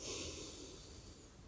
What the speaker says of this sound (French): vous allez pouvoir inspirer par le nez